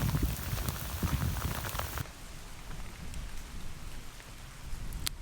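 Heavy rain with hail drums hard on a surface during a walk on the South Downs Way, loud and dense at first, then drops abruptly to a softer, steady patter of rain under shelter with a few scattered sharper hits.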